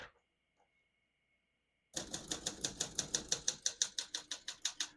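A 1971 Olympia SM9 portable typewriter is typed on up close. After a near-silent pause, a quick, even run of about fifteen sharp keystrokes clacks in steady rhythm.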